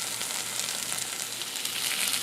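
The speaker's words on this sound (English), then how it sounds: "plus I've got the potatoes in there frying." Ground beef patties, two quarter-pounders, frying alongside potatoes in a cast iron skillet give a steady, close, even sizzle with no talking.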